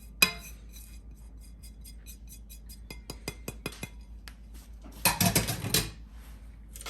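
Dry fruit cake batter with orange peel, lemon peel, nutmeg and cinnamon being stirred in a metal bowl or mixer, heard as a few sharp clinks and taps, then a brief louder burst of scraping and rattling near the end.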